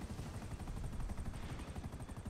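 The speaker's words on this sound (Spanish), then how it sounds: "yo no sé manejar bien el helicóptero" A helicopter in the video game GTA 5 drones with a steady, fast rotor chop, loud and constant, with no talking.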